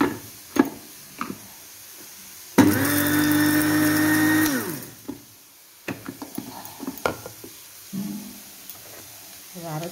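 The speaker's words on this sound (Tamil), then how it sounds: "இந்த மாதிரி அரைச்சிங்கன்னா உங்களுக்கு அரைக்கிறது ஈஸியாக இருக்கும்." A kitchen mixer grinder whirs loudly for about two seconds, grinding ingredients for ivy gourd pachadi, then winds down into clattering and handling noises while a person talks around it.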